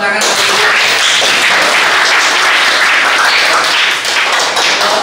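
A classroom of students claps loudly and rapidly all together, a dense, close burst of applause that carries on steadily throughout.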